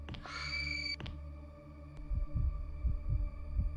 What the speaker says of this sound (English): When you start to feel stress and your heartbeat intensifies, use the pills.